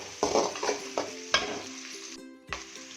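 Ingredients for a leftover chapati dish sauté in a pan, with a lively close sizzle broken by several scraping stirs and spatula clacks, then a brief quiet before the frying resumes.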